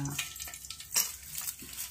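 Mustard and cumin seeds crackling in hot tempering oil, quick popping sizzles with a few light stirring scrapes, close and fairly soft.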